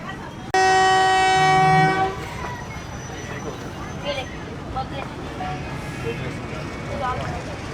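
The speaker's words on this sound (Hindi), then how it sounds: "ड्राइवर साहब ने हॉर्न दे दिया।" A long, loud horn blast from the Jand shuttle train sounds close by for about a second and a half, followed by rumbling railcar noise and faint background voices.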